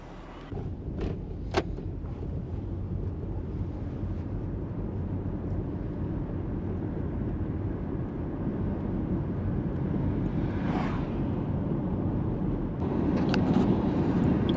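Interior of a Toyota Crown Majesta or Lexus LS430 with a speed sensor fault, driven with a steady low drone of engine and road noise that swells slightly, plus a few faint knocks and clicks.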